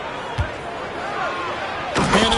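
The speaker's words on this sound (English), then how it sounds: "Murray hammers that one home." A basketball dunk slams home in the NBA 2K25 video game, a sharp thud early and a louder crash near the end, set against steady arena crowd noise with commentators talking over it.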